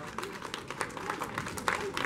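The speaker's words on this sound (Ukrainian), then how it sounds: "Поаплодуємо." Audience applauding and cheering at a strongman competition, a European Cup stage in Mukachevo, with a dense wash of clapping and crowd noise under an announcer's voice urging applause.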